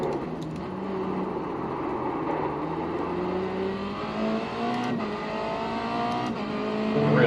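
A race car laps Phillip Island in the iRacing simulator, its engine droning steadily with rising pitch sweeps as it accelerates through the gears, a continuous in-car roar that swells louder at the end.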